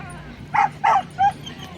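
Several short close dog barks or yips come in a quick run of three over low background noise, from a dog out on a geocaching trip.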